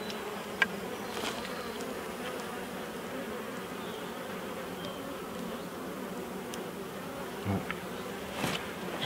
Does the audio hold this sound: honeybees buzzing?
yes